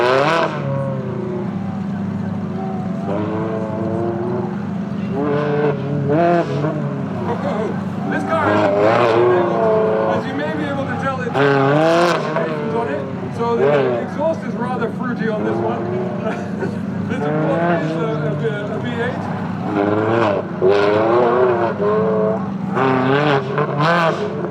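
A 330-horsepower Ferrari sports car with a manual gearbox runs at speed on the Brands Hatch race track at a festival demonstration, its engine droning steadily with rising and falling revs under continuous commentary.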